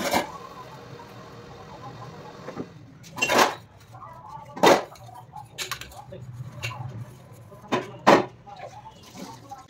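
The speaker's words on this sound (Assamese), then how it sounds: "এইফালে মোৰ বহুতখিনি বাচন বৰ্তন ধুব লগা আছিলে, তো এতিয়া যিমান পাৰোঁ জল্দি এইখিনি ধুই আছোঁ" Dishes, pots and utensils being washed by hand, with several sharp clanks and knocks of metal ware spaced irregularly over a faint running background, and a voice talking briefly.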